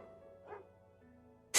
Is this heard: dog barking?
yes